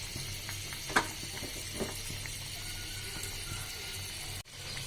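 Pabda fish dropped into a pan of potatoes and thankuni leaves already frying, a steady close sizzle with a few soft splashes and knocks, no talk.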